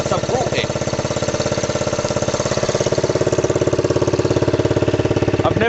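A dirt bike engine idles steadily after a cold start in the snow, loud and close, with a fast, even rhythmic chug that holds throughout without revving.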